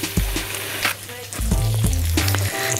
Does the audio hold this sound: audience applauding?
no